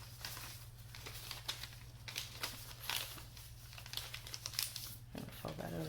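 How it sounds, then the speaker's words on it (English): Paper is folded and creased by hand into squares, giving close, soft crinkling and rustling over a low steady hum, with brief crisp crackles scattered throughout. "I'm going to fold that over to get a better crease, and hold it down on the inside"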